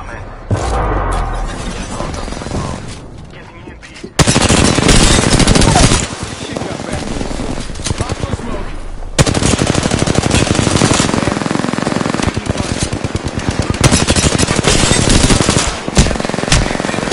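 Rapid automatic gunfire and shattering impacts in an Apex Legends match, loud and close, in dense bursts that stop and restart, with players talking over the shooting.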